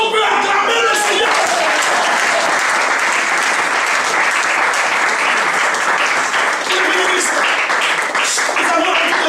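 A church congregation at a convention applauds the Lord, a loud, steady wash of many hands clapping at once that fills the whole stretch without pause.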